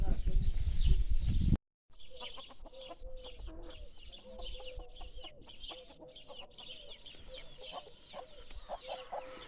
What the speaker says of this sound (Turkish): civcivlere bak civcivlere. Bu da anneleri.